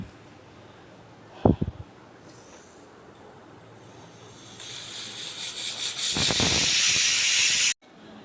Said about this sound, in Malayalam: രണ്ട് വിസിൽ കേട്ട് ഒരു വിസിൽ കൂടി കേൾക്കട്ടെ